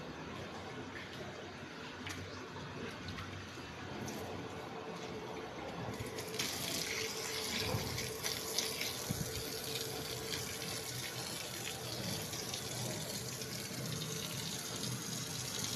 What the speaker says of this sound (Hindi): अब वो मैंने पानी खोला हुआ है।